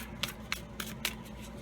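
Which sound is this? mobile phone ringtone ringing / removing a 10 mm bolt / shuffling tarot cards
shuffling tarot cards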